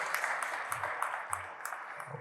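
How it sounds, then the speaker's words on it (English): A church audience at Bethel in Boston claps for Pastor Gloria White Hammond, a fairly quiet, dense patter of applause with a few sharper claps standing out, briefly, with no voices. "Let's clap it up for her over there."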